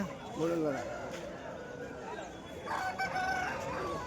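A rooster at a busy rural chicken market crows once, a clear rising call, then a second fainter crow follows amid market chatter and crowd noise.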